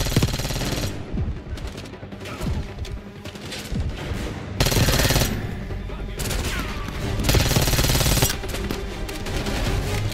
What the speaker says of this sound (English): This gun shoots extremely goddamn fast